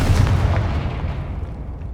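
Confringo fire-blast spell exploding in the Hogwarts Legacy video game, a single loud booming burst with a low rumbling tail that fades over about two seconds.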